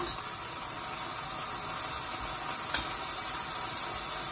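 Food sizzling in a pan: steady, dense hissing crackle runs the whole time at moderate loudness, with no voice over it.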